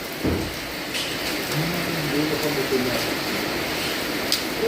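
Heavy rain pours down steadily at night during a storm, a dense continuous hiss of drops with a few faint tonal sounds in the background.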